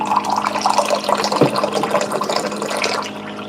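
Water for hermit crab zoae runs and swirls as it is stirred, a continuous close, splashy gurgling over a few seconds with no talk.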